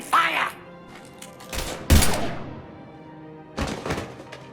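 Gunfire in Mass Effect Legendary Edition comes as a few heavy, booming bursts spaced over a few seconds, with spoken dialogue around them.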